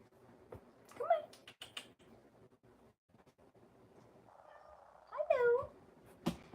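A kitten meows twice indoors, each short plaintive mew standing out clearly, while someone talks softly nearby.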